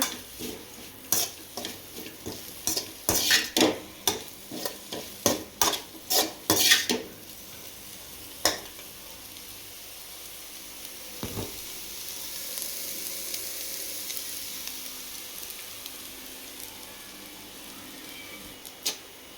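Fish puttu stirred and fried in a pan: a burst of quick metallic scrapes and clinks of a utensil against the pan, then a steady soft sizzle with an occasional knock, no voices.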